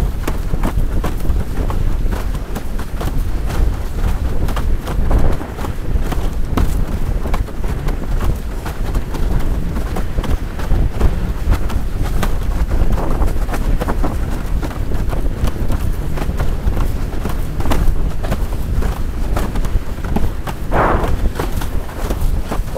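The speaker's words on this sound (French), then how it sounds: "le vent est nettement remonté" A strong tramontane wind buffets the microphone while windsurfing at sea, a constant loud roar and rumble running unbroken throughout with occasional gusty bursts and splashes.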